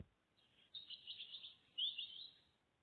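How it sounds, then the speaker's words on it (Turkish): A bulbul gives two bursts of quick, bright chirping, faint and alone with no other sound around it. "Nar bülbülü."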